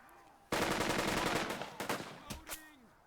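Burst of automatic gunfire aimed at an enemy squad in the tactical war game Burden of Command, a dense rattling volley that starts abruptly, runs loud for about two seconds, then breaks into a few scattered shots, with no talk over it.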